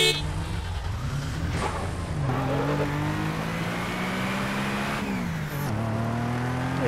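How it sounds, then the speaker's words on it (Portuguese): Infernus sports car engine from GTA San Andreas, revving with rising and falling pitch sweeps, loud and continuous throughout with no talking. "Aí tá bem louco esse Infernus aqui, o áudio. Carro esportivo,"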